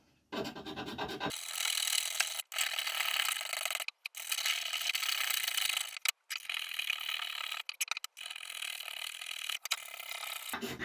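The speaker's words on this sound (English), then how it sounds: "I found out when I pull the piece of metal toward me, it scrapes off the most of the paint" A metal scraper drags along the wooden handle of an Adler Rheinland hatchet, stripping paint in repeated rasping strokes separated by short pauses, close and distinct with no talking.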